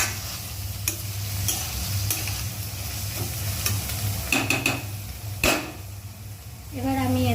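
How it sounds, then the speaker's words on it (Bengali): Softened onions for chicken sizzle in a frying pan as a utensil stirs them, with scraping clinks and taps over a steady frying hiss, close up, ending in a louder stir. "ভালো করে একবার মিশিয়ে নেব।"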